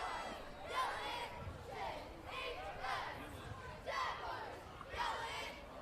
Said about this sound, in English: Jefferson applauding it.